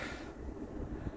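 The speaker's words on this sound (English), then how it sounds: "with the wind now, it is quite windy" Wind of about fifteen miles an hour gusting outdoors while getting ready for car camping, buffeting the microphone with a soft, continuous low rumble that rises and falls.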